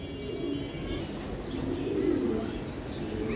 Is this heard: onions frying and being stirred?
no